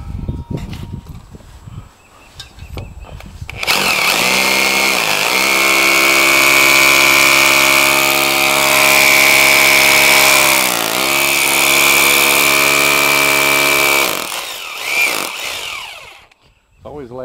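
A power drill bores into brick while a new Liberty hose reel is being plumbed in. The motor gives a loud, steady whine for about ten seconds, dips briefly once, then winds down and stops.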